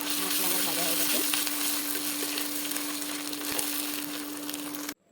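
Spices with onion and ginger-garlic paste frying in a pan give a steady, close, dense sizzle that runs unbroken for about five seconds, then cuts off abruptly.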